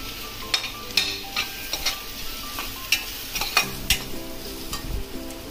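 Masala spices fry with onion and leftover rice for spicy tempered masale bhat, a close sizzle under brisk stirring with repeated knocks and scrapes of a spoon against the pan.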